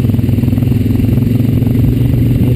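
A Honda Rancher 420 ATV engine drones loud and close while riding a trail on a hot day, a steady pulsing chug mixed with clatter from the machine, and nobody speaks.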